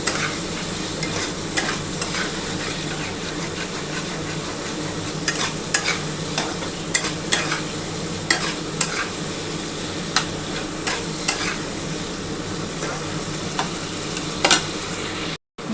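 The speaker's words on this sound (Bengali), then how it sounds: "খুব ভালো করে একটুখানি নাড়াচাড়া করে নিই, তবে খুব বেশি পেঁয়াজটা ক্যাপসিকামটা ভাজার দরকার নেই, খুবই হালকা করে ভাজবো" Onion, green chili and capsicum stir-fried in a pan give a steady close sizzle for about fifteen seconds, broken by sharp clicks and scrapes of the spatula stirring through the vegetables.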